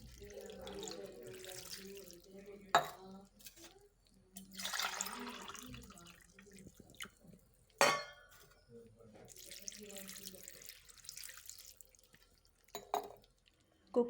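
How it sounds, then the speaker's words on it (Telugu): Water is poured from a glass into a pot of gongura dal in a home kitchen, soft intermittent splashing and trickling with a few sharp clinks of glass or metal, quiet and close. "ఈ గ్లాస్తో 2 గ్లాస్ వాటర్ వేసుకుందాం."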